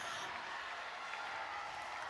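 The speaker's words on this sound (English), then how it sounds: "listen to the celebration from the crowd. Now we can hear the crowd from here." Crowd at a women's rugby match applauds and cheers a try, a steady broad roar heard from a distance that holds at an even level throughout.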